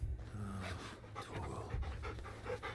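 A dog in Final Fantasy 16 pants while being petted, quick rhythmic breaths over a low game ambience, close and fairly quiet.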